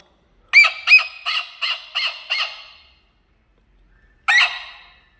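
A young boy mimics a parrot, giving a quick run of five or six sharp, harsh squawks, then a short silence and one more loud squawk, all close and clear.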